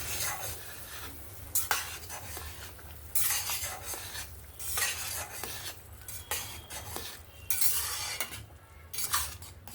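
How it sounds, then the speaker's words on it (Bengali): Spatula stirring chicken soup in a pot while egg is poured in, giving repeated scraping and clinking strokes with soft bubbling beneath, steady and close throughout. "ডিমটা আমি বাম হাতে দেব আর ডান হাতে কিন্তু খুন্তিটা নাড়াতে থাকবো"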